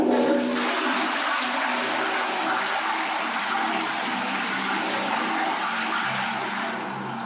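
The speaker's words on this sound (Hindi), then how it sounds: "इसी तरह का फ्रेंड्स अभी फ्लश कर देता हूँ।" A toilet flushes in one sustained rushing gush of water, loud and close, draining steadily for several seconds before easing slightly at the end.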